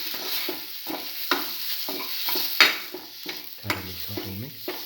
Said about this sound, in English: And a spoon of cinnamon powder. Salt and mix thoroughly.